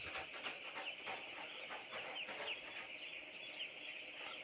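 Chickens on a poultry farm cluck and chirp faintly, a soft, continuous flock chatter with brief higher calls scattered through it and no talking.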